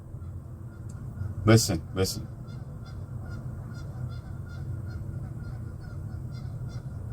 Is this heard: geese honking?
yes